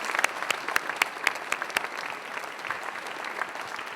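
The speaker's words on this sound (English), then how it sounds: "let's clap some more." Audience at a university challenge event applauding after student presentations, a steady patter of clapping from a moderate crowd with a few louder claps standing out early on.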